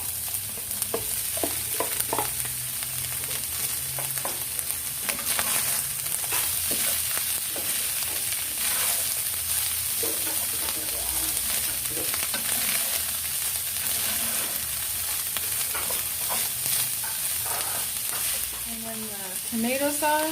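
Beef and onion mixture sizzles steadily in a hot pan for a burrito filling, with repeated scraping and stirring strokes throughout and a brief louder scrape near the end; no one speaks.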